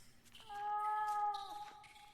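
In the video game The Last Door, a cat meows once from behind a wall, a single drawn-out, tonal cry that swells and fades against quiet ambience.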